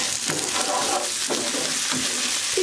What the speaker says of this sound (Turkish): Pirinci de bir süre kavuracağım.